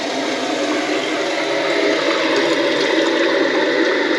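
A toilet flushes with a steady rushing, hissing torrent of water, loud and close, continuing without a break.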